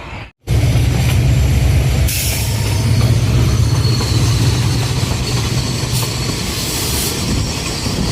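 A goods train rolls past close by near Bhatiyari railway station, a loud, steady roar of wagons and wheels with clacking rhythm and faint squeals, continuous after a brief gap at the start.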